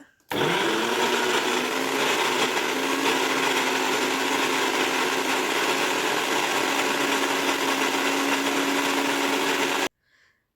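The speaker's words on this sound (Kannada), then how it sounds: "ಈಗ ಮಿಕ್ಸಿ ಜಾರಲ್ಲಿ ರನ್ ಮಾಡ್ಕೋಬೇಕಷ್ಟೇ" A mixer grinder whirs loudly and steadily for about ten seconds while making sweet lime juice, its motor holding an even high-pitched drone before cutting off abruptly.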